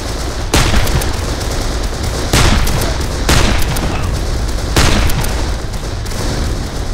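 Rapid, loud covering gunfire in the video game Darkest of Days, a dense continuous barrage of automatic shots punctuated by several heavier booming blasts.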